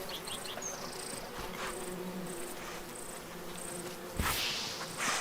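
Bees buzz around a beehive in a tree, a steady droning hum with pulses of insect whine coming and going, and a sudden louder rustle near the end, with no talk.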